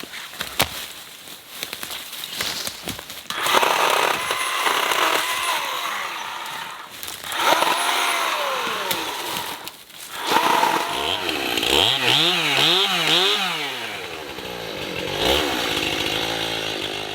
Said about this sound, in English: We fell in love with our little Ryobi chainsaw.